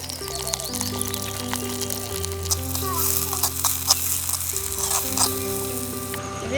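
Chopped onion and green chili sizzle in sesame oil in a Jaffna village kitchen, a busy crackling fry with clinks and stirring throughout, beneath a sustained musical tone.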